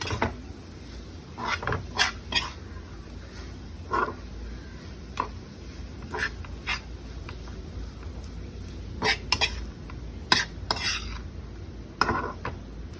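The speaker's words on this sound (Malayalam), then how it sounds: "എന്നിട്ട് നന്നായിട്ട് വാടുന്ന വരെ ഇളക്കി കൊടുക്കണം" A spoon scrapes and clinks in a pan of grated carrot with coconut, cooking for carrot pola, in a steady series of soft stirring scrapes and light metallic taps, fairly quiet and without talk.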